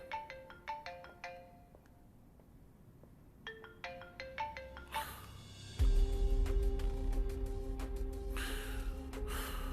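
A phone ringtone chimes in repeated short melodic bursts, then music and rumbling noise swell in and continue under it.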